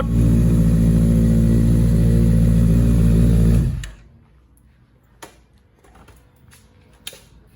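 A Honda CB650F motorcycle runs with a loud, steady, throaty engine and exhaust drone for several seconds, then cuts off abruptly, leaving near silence broken only by a few faint clicks.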